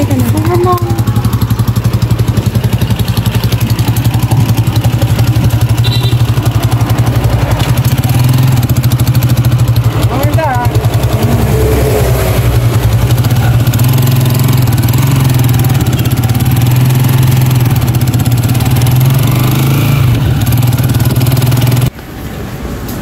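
A motorized tricycle's engine drones steadily and loudly throughout the ride, a constant low rumbling hum with road noise, while people talk over it; the engine sound cuts down near the end.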